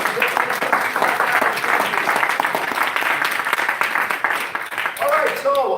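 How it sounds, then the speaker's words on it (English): Audience applause at a live event with speakers, a dense steady burst of clapping that carries on at an even level for several seconds, with a voice coming in near the end. "A big round of applause."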